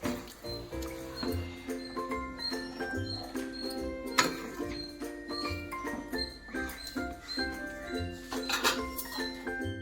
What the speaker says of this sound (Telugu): సో ఇప్పుడు మనం దీన్ని బాగా ఒకసారి కలిపేసుకోవాలి